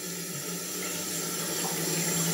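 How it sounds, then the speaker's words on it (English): Hot water runs steadily from a tap into a sink for brush washing before a shave, a continuous close splashing hiss with no talk. "When you run the hot water,"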